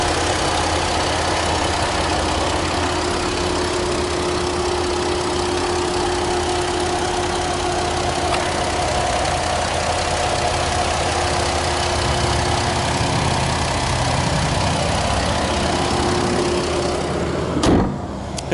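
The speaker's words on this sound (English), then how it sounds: "But seems to be a good, smooth running engine." A 2012 Jeep Liberty Sport with a 3.7 liter V6 idles smoothly and steadily under an open hood, a constant close hum with a sharp knock near the end.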